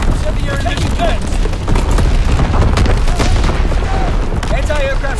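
Incendiary bomber strike in Call of Duty: WWII, a dense, continuous barrage of booming blasts and crackling fire filling the whole stretch, with game voice chatter and whistling tones mixed over it.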